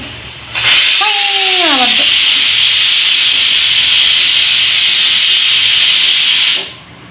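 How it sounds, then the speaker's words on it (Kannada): A loud, steady hiss of escaping steam from a pressure cooker fills the whole stretch, with a brief two-tone whistle sliding downward near the start before the hissing carries on alone. "ಕುಕ್ಕರ್ ಸಿಟಿ ಬರ್ತದೆ ನೋಡ್ರಿ ಈಗ ಕುಕ್ಕರ್ ಇಟ್ಕೊಂಡಿನಿ"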